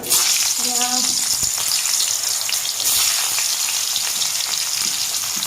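Garlic-ginger paste and green chillies crackle and sizzle loudly in hot oil for a fish curry, a dense, steady frying hiss that fills the whole stretch, with a few faint tonal clinks near the start.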